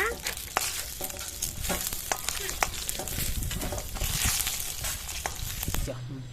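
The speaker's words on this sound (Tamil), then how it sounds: "இதெல்லாம் நல்லா வறுத்தாக்கி ஒரு பிளேட்ல செப்பரேட்டா எடுத்து வச்சுக்கலாம் தனியா" Ingredients for a ridge gourd dish frying in a pan, a close, continuous sizzle with frequent spatula scrapes and clicks throughout, fading out just before the end.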